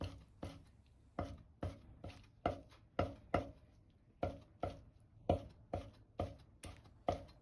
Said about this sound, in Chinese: 再切成细丝， 再改刀切成小丁。